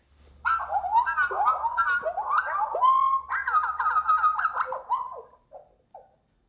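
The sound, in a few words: goldfinch song slowed down and lowered in pitch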